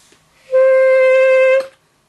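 A pocket sax bought from AliExpress plays a single steady, reedy held note for about a second, loud and close, starting and stopping cleanly.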